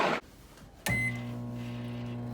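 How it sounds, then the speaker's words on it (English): A microwave oven door thumps shut, a short beep follows, and then the oven starts running with a steady, close, droning hum that continues to the end. "These are going to pop into the microwave."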